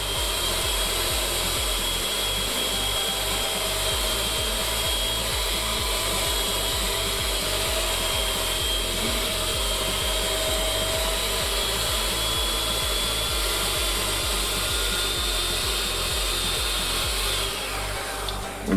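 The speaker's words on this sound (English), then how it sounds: "you can start turning up the speed on your mixer. We're going to be beating the batter for about 1 to 2 minutes" An electric mixer whirs steadily at high speed, beating chocolate cherry swirl cake batter in a bowl, a continuous loud motor drone with a fast pulsing rhythm that runs alone, without talk, for the whole stretch.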